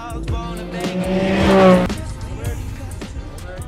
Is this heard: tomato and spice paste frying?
no